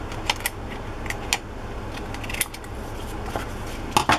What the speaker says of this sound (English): pink it with my pinking shears